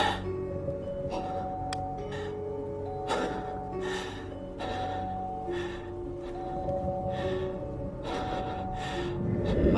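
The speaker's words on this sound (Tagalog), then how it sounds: "Maririnig sa video na tila hinihingal ang kumukuha ng video dahil sa takot." Heavy, ragged panting breaths repeat close to the microphone, quick and anxious, over a steady low background hum.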